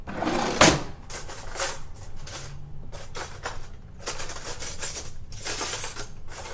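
Kitchen drawer pulled open with spoons grabbed from it, a sharp clack followed by a busy run of metallic clinks and rattles close by, no voices.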